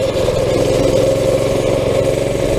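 A small mini bike engine runs steadily at idle up close, a loud continuous low chugging drone with a fast regular pulse and no talk.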